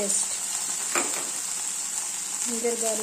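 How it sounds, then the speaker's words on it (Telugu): A tempering of mustard seeds, cumin, urad dal and red chillies sizzles steadily in hot oil, close and continuous, with a brief stir and a faint voice near the end. "Mustard seeds, cumin seeds, ఉరుద్ద, red chilli పోపు వేసాం."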